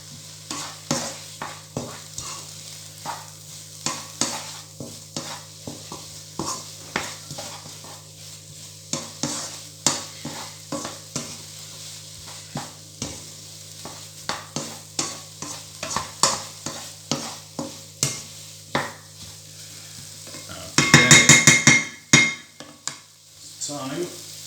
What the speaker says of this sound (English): I'm gonna mix all together once again.